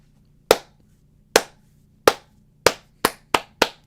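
Hands clapping sharply and close, eight separate claps, slow and spaced at first and then coming quicker toward the end, each a crisp isolated smack against silence.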